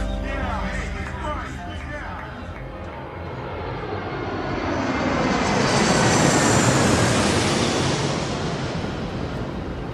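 An airplane in flight at night, its engine roar swelling into a loud, steady broadband rush that peaks mid-way and stays close, with a voice speaking over the opening seconds.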